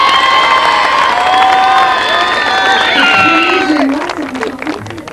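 A television studio audience in Cannes, 1988, cheers and applauds as a singer is welcomed on stage, a loud, lively crowd roar with shouts and whistles that fades toward the end.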